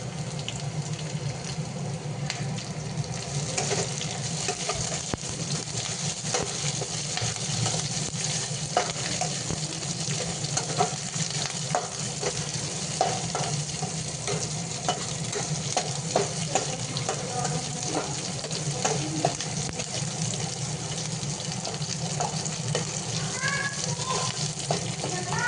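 Capsicum frying in a pan with oil, a steady sizzle and intermittent stirring scrapes running throughout, with occasional voices in the background.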